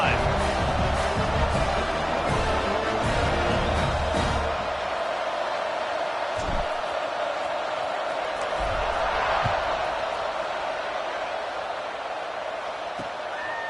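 Stadium crowd roar in the College Football 26 video game, a steady broad wash of cheering that stays loud throughout, with brief thuds over it.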